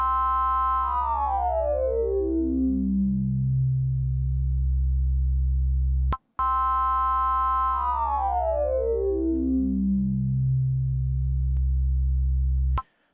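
Two identical synth notes from the Old Bell wavetable (number 22) on a Sequential Pro 3's digital wavetable oscillator, each a bright harmonic tone sweeping steadily downward in pitch over about six seconds, separated by a brief gap, loud and alone.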